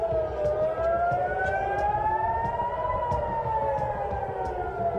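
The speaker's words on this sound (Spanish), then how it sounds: "escuchamos las sirenas efectivamente en Tel Aviv, ataque aéreo con drones y misiles desde Irán hacia Israel" A steady wailing air raid siren in Tel Aviv during a drone and missile attack rises and falls slowly, sustained and fairly loud with distant low rumble underneath and no talking.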